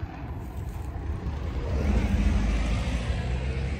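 A vehicle on a farm road in the Swiss countryside rumbles past, its low broadband engine and tyre noise swelling steadily louder toward the end, with no voices.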